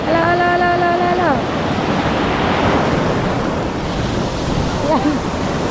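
Waves on a river wash steadily under gusting wind noise, with a loud, continuous roar. Brief voiced sounds can be heard near the start and near the end.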